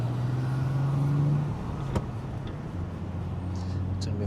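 A Chrysler Crossfire with an engine that had been acting up, driving along a road, a steady close engine hum with a lower drone that drops in pitch partway through, with no one talking.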